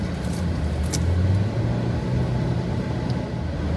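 A car drives through traffic with a steady engine rumble and road noise, loud and close, with a brief rise in engine pitch partway through; no talking.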